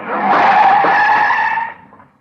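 A car's tires skid in a long, loud squeal as a radio-drama sound effect, holding steady for over a second before fading quickly, with no voices over it.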